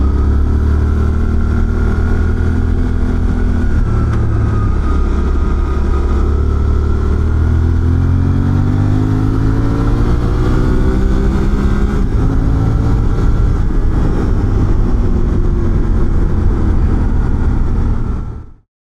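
Suzuki V-Strom 800DE motorcycle engine droning continuously while riding, with shifting engine tones rising and falling over steady road and wind noise, loud and close throughout before cutting off at the end.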